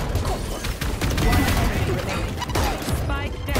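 Valorant gunfire in a dense, loud fight, with rapid overlapping shots blending into busy game sounds and voice chat.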